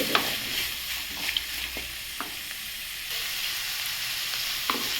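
Chopped tomato, curry leaves and vegetables frying and being stirred in a pan for bun dosa, a steady bright sizzle with occasional spatula scrapes and clicks, close and continuous with no talk.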